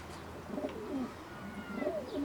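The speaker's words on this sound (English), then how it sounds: "It's a lovely pigeon, Wally." Young racing pigeons coo softly in a small bird loft, repeated low throaty coos overlapping at close range with faint chirps, no talking.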